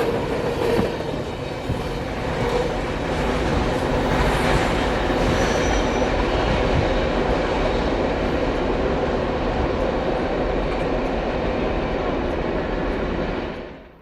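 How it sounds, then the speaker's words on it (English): A freight manifest train rolls past at night in northwest Georgia, a loud, steady broadband rumble of wagons and wheels with faint squeal and rail clatter, holding close for the whole stretch before cutting off. "The train that I would catch would be symboled X603, which was a very oddball Wauhatchie, Tennessee to Winston, Florida manifest."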